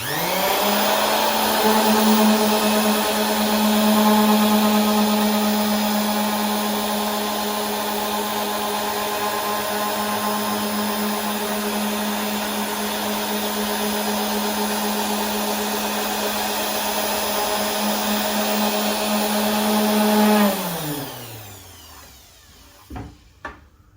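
Ryobi 380 W 125 mm random orbital sander running steadily on a wooden board with light pressure, a loud continuous whirring drone that winds down near the end, followed by a couple of brief knocks.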